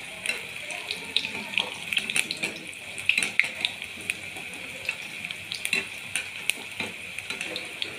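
Medu vada made from urad dal fry in hot oil over a low gas flame. A soft, steady sizzle and bubbling with scattered sharp crackles and pops runs close and fairly quiet throughout.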